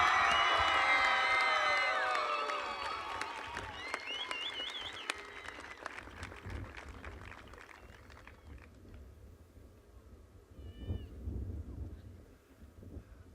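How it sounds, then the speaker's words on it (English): High school graduation crowd, with cheering and whistles loud at the start, then scattered applause and crowd murmur fading to a quieter, sparse tail with a few late claps. "let's give them one more round of applause"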